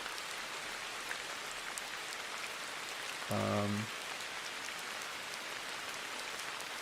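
Steady rain on a surface played as calming background audio, a soft continuous hiss lasting throughout, with a brief low hum or tone appearing midway.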